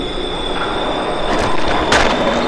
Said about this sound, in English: the train is moving forward